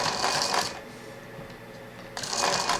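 Singer 20U33 sewing machine stitching with a short straight stitch, a fast rapid mechanical chatter in two bursts separated by a brief quieter pause, close and alone.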